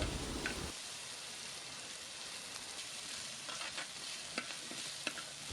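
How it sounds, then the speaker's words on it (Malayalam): Potatoes sauté over a medium flame for prawn theeyal, giving a steady, close sizzle with occasional soft knocks and scrapes of stirring. "കിഴങ്ങ് ഇട്ട് കൊടുത്ത് ഒരു 5 to 6 മിനിറ്റ് മീഡിയം ഫ്ലെയിമിലിട്ടൊന്ന് സോട്ട് ചെയ്യുക"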